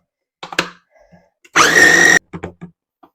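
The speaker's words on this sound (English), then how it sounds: "I'm going to pulse these and mush them up" A kitchen blender pulses burger ingredients in one loud, close burst of about half a second, framed by quiet clatter and small handling knocks before and after.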